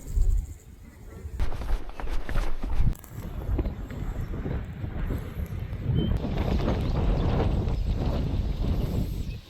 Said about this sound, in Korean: 바람이 지금 센 편입니다.